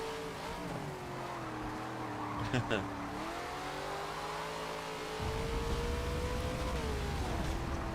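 Race car engine in Forza 7 droning and shifting pitch through a corner, with tire noise and a brief squeal, under speech, then a louder rumble toward the end.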